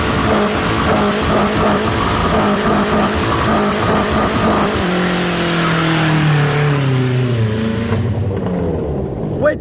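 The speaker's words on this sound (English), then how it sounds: "Rev it up." Kia Spectra with an open exhaust revved hard with the hood up, a loud raspy engine roar that climbs and wavers, then falls away in a descending whine before cutting off near the end.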